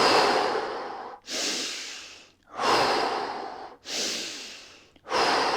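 Deep, loud breaths close to the microphone during a fascial maneuver exercise, four long airy inhales and exhales in a steady rhythm with short pauses between, no talking.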